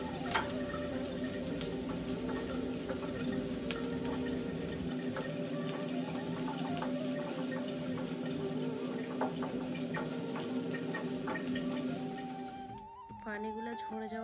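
Chopped garlic and green chili stirred in a frying pan, a steady close sizzle with intermittent spatula scrapes and clicks running throughout, ending in a short clatter.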